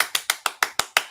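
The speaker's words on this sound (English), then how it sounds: "Clap a little louder." Seven sharp, evenly spaced hand claps ring out close and loud in quick succession, each a crisp smack with a short decay and no talking around them.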